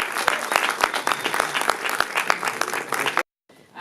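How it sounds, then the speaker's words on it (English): At a CAAMFEST film festival Q&A, an audience gives a steady round of applause after the discussion, with crisp, dense clapping that cuts off abruptly into near silence. "and let's give another round of applause for"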